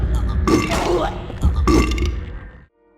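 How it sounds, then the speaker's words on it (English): A Patient monster from Silent Hill 4 lets out two deep, wet belching grunts as it takes damage, each lasting about a second, close and loud, then silence. "if they take damage they will sound like a burp"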